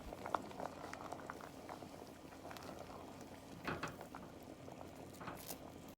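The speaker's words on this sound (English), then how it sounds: "When the water comes to a roaring boil, rinse the split peas and add to the water." Split peas boil in water in a pot, a steady bubbling and popping patter with occasional louder bursts, fairly quiet and close, with no voices.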